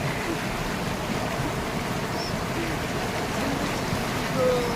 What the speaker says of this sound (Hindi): उसी का जो ग्लेशियर जो पिघल के आ रहा है पानी, ये देखो इतनी तेज़ धार है कि कोई भी बह जाएगा